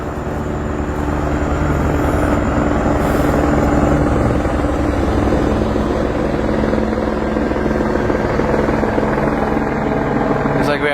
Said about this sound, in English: Looks like we have a police helicopter above me.